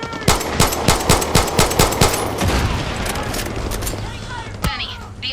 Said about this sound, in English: people are shooting up the big fuel tanks near you